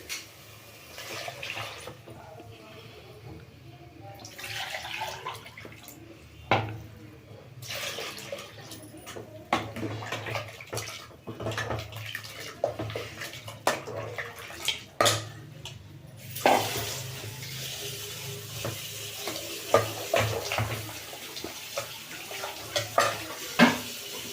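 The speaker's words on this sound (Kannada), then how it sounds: "ನಾನು ನೀರು ಹಾಕ್ಕೊಳ್ತೀನಿ" Water is poured into a pan of warmed sambar masala for a fresh pigeon pea sambar, with splashing and intermittent pan clatter and stirring over about twenty seconds, close and moderately loud, with no talking.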